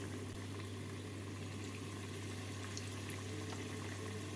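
Bread slices frying over a very low flame in hot oil for a coconut bread snack, a steady, even sizzle with a low hum underneath and no voices.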